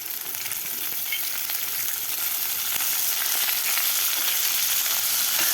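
Val bean pods, added to garlic already fried in a pan, crackle in a dense, steady sizzle that holds evenly loud for the whole stretch, with no voices.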